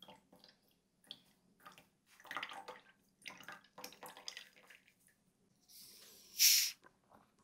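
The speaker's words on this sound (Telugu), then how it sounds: "ఇంకొన్ని ఐస్ క్యూబ్స్ వేసి 15 ml దానిమ్మ జ్యూస్ని పోస్తున్నాను" Pomegranate juice is poured over ice cubes in a glass for a sugar-free mocktail, heard as quiet, intermittent trickles and clinks followed by a brief louder hissing splash near the end; no speech.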